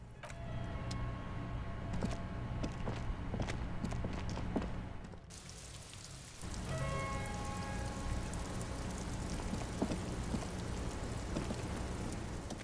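Steady rain in the Disco Elysium game, a dense continuous hiss filling the scene, dipping briefly midway before resuming at full strength, with no one talking.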